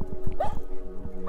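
A dog yips and whimpers on a roadside in St Vincent, one short high bark close by over low rumbling background noise.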